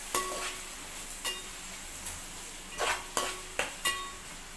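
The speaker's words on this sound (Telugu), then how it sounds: "ఈ ఆనియన్స్ ఫ్రై అవ్వడానికి మాత్రమే వేసుకుంటున్నాను" Sliced onions sizzle in oil with salt in a pan for a Nellore fish curry, with a soft steady fry under several sharp spoon-stirring scrapes and clinks, close and alone.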